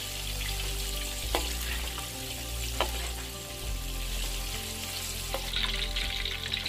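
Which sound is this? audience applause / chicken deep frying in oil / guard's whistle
chicken deep frying in oil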